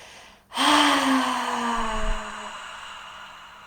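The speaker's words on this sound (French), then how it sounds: "Puis à l'expire, vous allez expirer par la bouche, ouvrir en grand" A single loud, breathy exhale pushed out through a wide-open mouth during guided meditation breathing, starting abruptly and trailing off slowly over a few seconds, with no talk.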